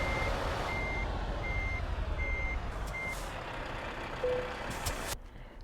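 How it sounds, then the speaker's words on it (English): Reversing alarm of a truck in Euro Truck Simulator 2, a steady run of evenly spaced beeps over a constant engine drone, with a brief air-brake hiss near the end before the engine cuts off. "Just reversing back."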